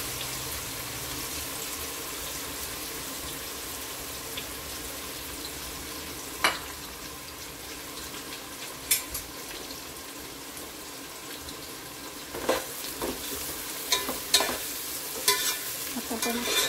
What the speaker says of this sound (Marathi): आपण कांदा लालसर भाजून घेऊया.